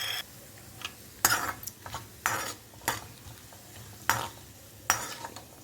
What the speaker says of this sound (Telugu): ఇప్పుడు మన జీడిపప్పు, బాదం పప్పు ఫ్రై చేసుకుందాం.